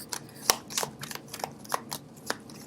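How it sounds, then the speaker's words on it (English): A deck of tarot cards is shuffled close up, producing a quick series of soft, irregular riffling snaps and flutters, fairly faint and with no talking over them. "I don't know why people like to see the card shuffle live, I guess."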